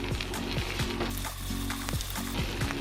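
Chopped green chillies fry in a hot pan for a stomach-and-liver dish, a loud, steady close sizzle broken by scraping stirs.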